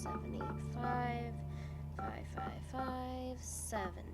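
Touch-tone keypad beeps from a phone in a Nancy Drew mystery game, a quick series of separate tones entering a number, spaced irregularly against a quiet background hum.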